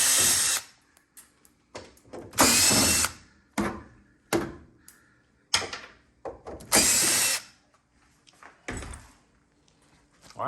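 A power driver backs Phillips screws out of the trim piece around a built-in microwave, giving repeated short whirring bursts of varied length separated by pauses, close and fairly loud.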